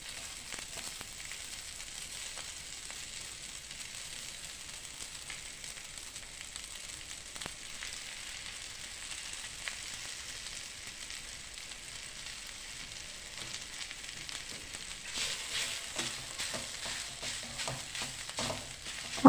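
Semolina scattered over boiled cauliflower in a hot pan gives a steady, close frying hiss and soft crackle that runs continuously, growing a bit busier and louder toward the end, with no talking.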